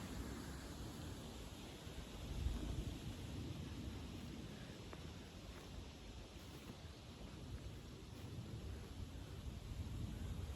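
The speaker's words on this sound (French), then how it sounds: "Ah, le vent s'est bien levé là quand même." A faint, steady outdoor wind whooshes at low level, rising slightly now and then, with no voices, as a rain shower arrives at night.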